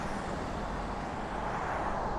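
Road traffic passing on a street: a continuous, fairly faint broadband rumble and hiss of vehicles, steady for the whole stretch with no voices.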